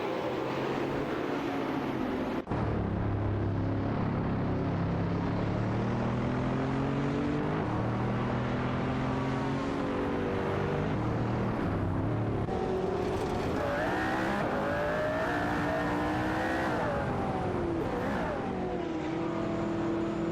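AI-driven race cars, including a Bugatti Veyron, contest a close video game race, engines droning and revving continuously with rising and falling pitch as gears change, loud and sustained throughout.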